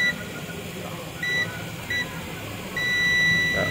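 A multimeter's continuity buzzer beeps in short bursts while testing a Sony 32-inch LCD TV, a few brief tones followed by one longer continuous beep, over a low background hum.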